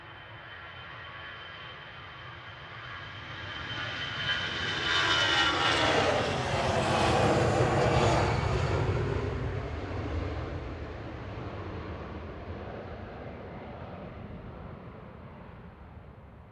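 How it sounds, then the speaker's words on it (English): Ryanair jet bound for Milan, flight 3836, departing Manchester Airport from runway 23 left, a jet roar swelling to a loud peak as it passes and then fading slowly into the distance, with no voices. "Ryanair departing to Milan now on 23 left."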